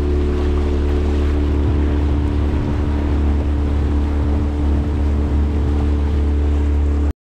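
A speedboat runs across the lake at Ooty with a loud, constant engine drone and rushing water and wind noise, steady and close throughout before cutting off abruptly at the end.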